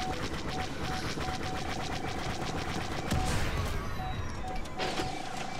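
Gunfire crackles in Star Wars Battlefront, rapid repeated shots under a steady tonal hum, with a heavier missile impact near the middle and another burst toward the end.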